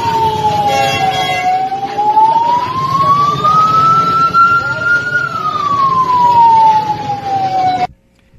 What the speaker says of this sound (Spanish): Se escuchaban las sirenas de las patrullas policiales que participaban en el operativo.